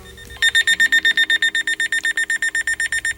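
The siren of an Eton FR1 L.L.Bean Edition radio, a loud, high electronic beeping pulsed in a fast, even rhythm of about twenty-one short tones, close and clear, much like an alarm clock.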